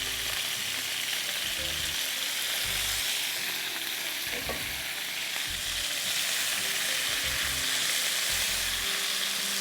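Chicken fries with garlic in a karahi for Balochi karahi, giving a loud, steady sizzle close up, with occasional stirring scrapes and knocks beneath the hiss and no talking.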